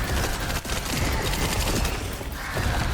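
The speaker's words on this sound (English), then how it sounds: "Just start shooting him." Steady, dense gunfire aimed at an enemy in the video game Resident Evil Requiem, with loud continuous shots and mechanical clatter filling the whole stretch, no voices over it.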